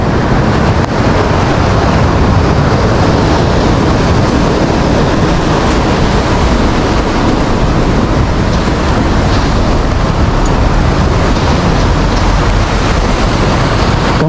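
A continuous, loud wash of breaking sea waves at the Thuan An estuary, blended with strong wind rumble against the microphone, unbroken and with no one speaking.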